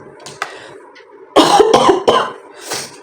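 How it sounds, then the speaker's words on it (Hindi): A few sharp, close coughs in quick succession, preceded by quieter throat noises, with no speech. "मुझे ना बहुत खांसी आ रही है"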